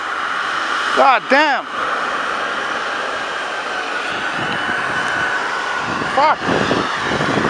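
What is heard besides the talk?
British Airways airliner at Montreal airport at night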